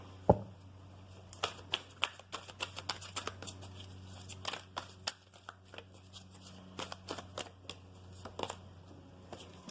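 A deck of oracle cards is shuffled by hand in a quiet room, giving a close, soft run of rapid riffling and flicking clicks that continues steadily with small bursts and pauses.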